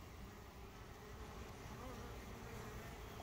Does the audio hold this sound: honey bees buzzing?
yes